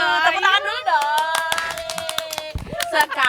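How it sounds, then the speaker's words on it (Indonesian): Several people clap hands in a run of sharp, quick claps under a drawn-out, sung or teasing voice and laughter, close and informal. "Tepuk tangan dulu dong."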